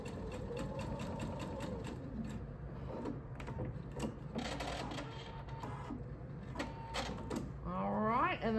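A sewing machine stitches a tote bag with a liner in a steady mechanical whir, close and continuous, while someone talks over it throughout.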